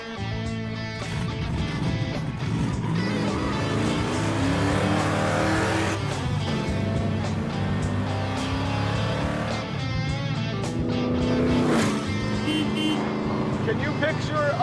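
A 1968 Wreck Runner car cruising on the road through Monument Valley, its loud engine droning steadily with rising and falling revs as it accelerates, heard up close from inside for a long stretch.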